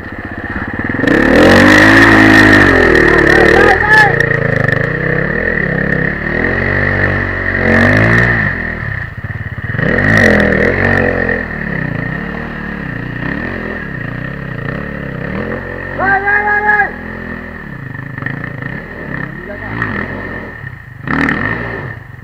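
A dirt bike engine revs loudly and repeatedly up close at an enduro school, rising and falling in pitch, with clattering and a steady high whine underneath.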